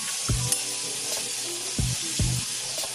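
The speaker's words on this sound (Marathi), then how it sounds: "थोडं वर खाली करून घेते भाजी" Methi bhaji frying on a hot griddle and being turned over, a constant close sizzle broken by a few scraping strokes of the spatula, no talk.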